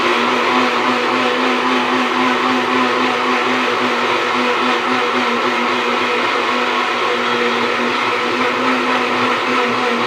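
A mixer grinder blends mango juice with sugar, its motor whining loud and steady with a constant hum and churning for the whole stretch, no voices over it.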